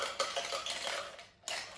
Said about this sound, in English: So you want some ice